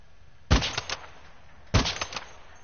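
Gunfire in the video game Warzone, two short bursts of rapid automatic shots about a second apart, loud and punchy.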